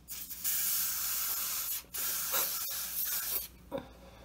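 Makeup being sprayed onto skin for a Twi'lek alien look, a series of close hissing spray bursts separated by short pauses, fairly quiet and with no talking.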